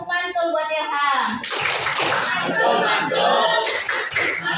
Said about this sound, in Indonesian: Kasih tepuk mantul buat Ilham.